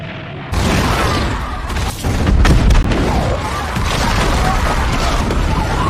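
Bombing explosions in an animated multiverse story: a sudden loud burst followed by a dense, rumbling barrage of booms and blasts with a heavy low-end swell, sustained throughout.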